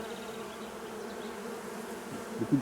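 Honey bees and drones swarm at an open hive, a steady close buzzing hum that persists throughout, with a slightly louder rise at the very end.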